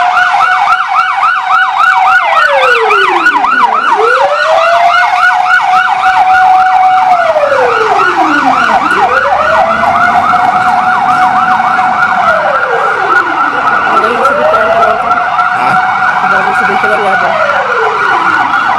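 Loud fire truck sirens wail continuously as trucks arrive at a fire in Barangay 71, Caloocan City, rising and falling in overlapping cycles, close by and dominating the scene.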